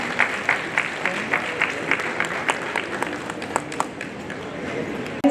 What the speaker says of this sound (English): So a big round of applause for Shrija Milk Company.